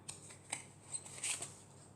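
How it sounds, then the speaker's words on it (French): A tarot card slid and drawn from the deck, giving a few short, faint papery swishes and flicks close by, with a longer rustle near the middle, in a quiet room. "Et je vais prendre une deuxième carte."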